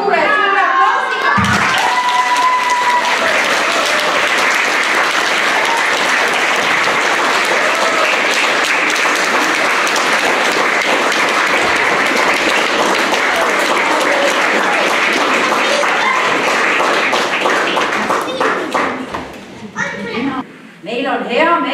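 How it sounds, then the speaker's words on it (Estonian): Loud, sustained applause from a concert audience at a children's singing event in Leisi, with clapping and some cheering filling the hall before fading near the end as voices and kids' chatter come through. "Kas me täname suure aplausiga?"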